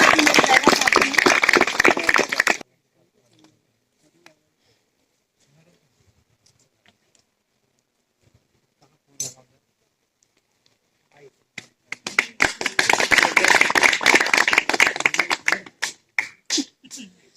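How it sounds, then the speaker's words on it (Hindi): An audience at a village gathering in Bijauri, Katni, claps to welcome guests in two loud bursts of dense applause, one at the start and a longer one at the end, with near silence and a few faint taps in between. "जोरदार तालियां"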